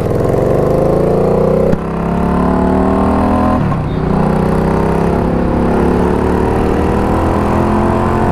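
A Harley-Davidson motorcycle engine idles steadily nearby with a deep, lumpy rumble, one brief dip in the middle, and no voices.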